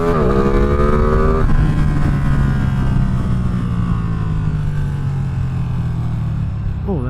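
Ducati Streetfighter V2 ridden on a twisty road: a loud, close engine drone that drops in pitch after a gear change and then holds steady, with constant wind rush around it.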